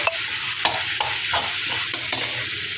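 Onions and tomatoes fry in a pan while being stirred: a steady, close sizzle runs throughout, broken by regular scraping strokes of the spoon roughly every half second, with no voices.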